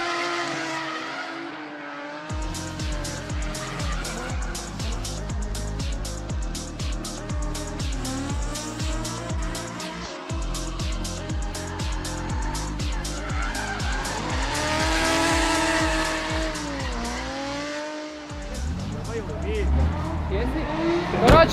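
Drift cars at a Drift Foxes event in Šiauliai run loud and continuous, engines revving hard with rhythmic rises and falls and tyre squeal, while a commentator talks over the action throughout.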